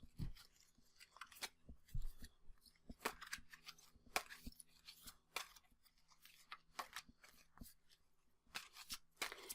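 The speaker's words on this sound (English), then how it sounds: "And now I'm going to shuffle just these 8 cards." A small stack of eight tarot cards shuffled by hand, giving quiet, close riffling and sharp papery snaps in uneven bursts, with no talking.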